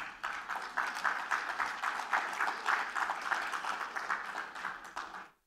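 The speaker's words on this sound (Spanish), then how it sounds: "Denle unas palmas a mis hermanas de corona." Church congregation applauding in a steady, dense wash of many hands clapping, fairly close and even throughout before fading out at the end.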